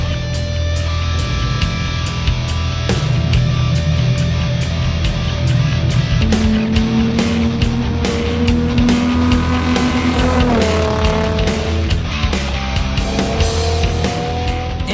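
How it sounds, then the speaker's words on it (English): A Nissan 350Z Spec Z race car with Nismo parts runs hard on a racetrack, its engine note climbing and dropping through gear changes, loud and close-miked from inside the car. "it's time to get this car on the racetrack."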